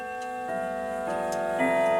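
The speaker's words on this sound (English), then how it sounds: "I'll let you hear the chimes." Arts and Crafts grandfather clock sounding a triple chime: sustained, ringing tones step in at three points, each new note layering over the last and growing slightly louder, heard up close without talk.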